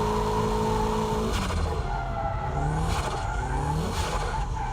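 Car tires squeal and skid as the car takes a corner too fast on a wet track, a loud continuous screech over engine noise with no talking.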